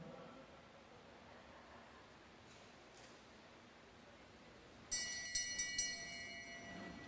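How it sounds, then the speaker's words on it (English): A lap bell rings out in rapid repeated strikes during a masters track cycling elimination race at the New Zealand nationals, cutting in sharply over steady velodrome crowd noise. "The bell's gone."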